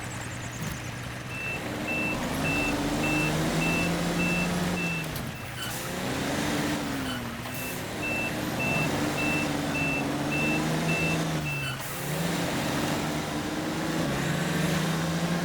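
A Western Star truck with a trailer strains in the SnowRunner video game, its engine droning and pitching up and down in repeated pushes while a reversing beep repeats steadily through much of the stretch.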